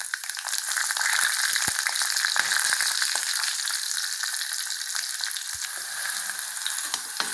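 Garlic fries in oil in the pan for a peanut and turkey berry tamarind curry, giving a bright, steady sizzle up close, with a few scraping stirs and knocks of a spoon and no talk.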